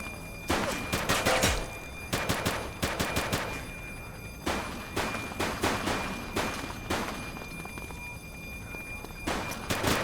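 Bursts of gunfire in the police video game The Precinct, clusters of rapid, loud shots separated by short pauses, crackling close by against a quiet background.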